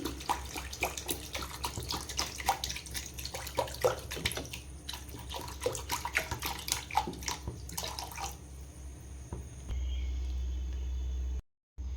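Water splashes and gurgles steadily into a cooking pot of spice paste for a fish curry, then settles into a smoother continuous pour before cutting off briefly.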